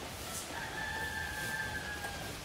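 A rooster crows once in the distance somewhere in Indonesia, a faint drawn-out call over a quiet background of ambient noise.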